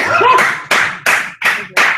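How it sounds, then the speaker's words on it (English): Five loud, close hand claps ring out in a slightly uneven rhythm, each with a short fading tail, with a brief voice at the very start. "I honestly had to give that one a good clap"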